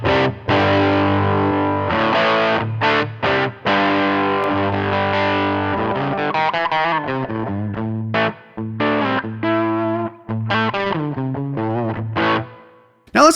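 Electric guitar played through a Helix US Small Tweed amp model, dry without added effects, strumming sustained distorted chords with short stops and choppier rhythmic passages, loud and close with no voices.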